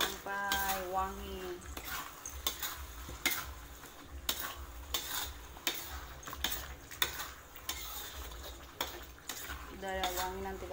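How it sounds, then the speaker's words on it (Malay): Steady sizzling and crackling of leaves frying in a pan for an Indian-style curry, with occasional clinks and scrapes of a utensil stirring, close and continuous. "Kita goreng sampai wangi."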